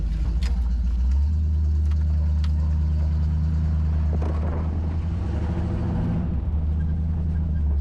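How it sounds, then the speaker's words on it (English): A 1986 Jeep CJ7 rumbling through a muddy ditch, its engine a loud continuous low drone close up, with faint splashes and knocks over the top and no talk. "Go through the muddy ditch."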